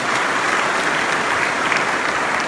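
A church congregation claps together in dense, sustained applause, a steady roar of many hands at close to moderate distance, loud and even with no speech over it.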